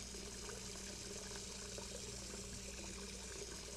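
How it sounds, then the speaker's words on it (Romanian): Water running from a tap to fill a container, a steady soft rushing flow that continues evenly throughout. "O să umplu asta cu apă."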